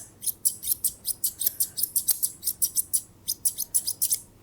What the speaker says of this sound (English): She doesn't like the sound of the scissors around her little ear canal.